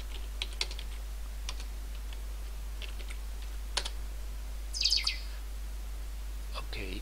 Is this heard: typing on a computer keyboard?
yes